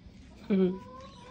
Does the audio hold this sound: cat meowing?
yes